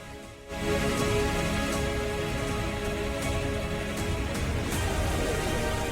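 Heavy monsoon rain during an orange alert in Buldhana, Maharashtra, amid flooding. It falls as a steady, loud, dense wash that starts about half a second in and continues unbroken, with no voices.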